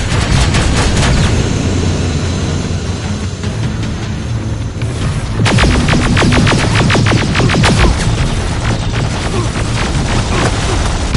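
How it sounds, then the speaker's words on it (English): Gunfire rattles through a Terminator Resistance firefight. A steady wash of shooting and rumbling gives way to a dense, fast volley of loud, sharp shots that runs without pause to the end. "Don't stop shooting!"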